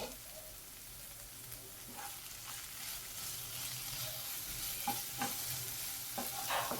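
Onion, tomato and spices sautéing in oil for paneer bhurji, a soft continuous sizzle with intermittent scrapes of a spoon stirring the pan, fairly quiet and close.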